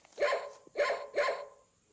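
A dog barks three times in quick succession, sharp and close, the barks evenly spaced and heard alone before trailing into quiet.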